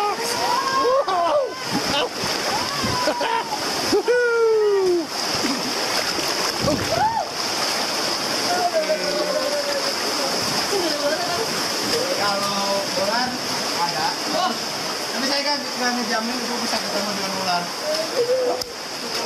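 River rapids splash and rush continuously during body rafting, with loud turbulent water throughout and excited voices shouting over it.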